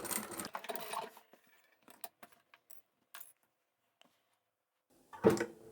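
A sewing machine backstitches a 1 cm seam along a stabilizer outline on a fabric basket, giving a short whirring run at the start, then scattered light clicks and a final brief burst of stitching.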